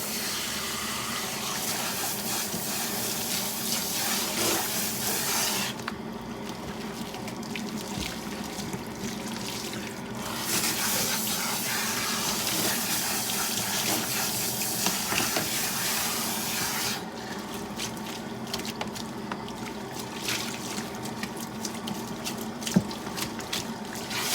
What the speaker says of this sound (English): And now we can use warm water.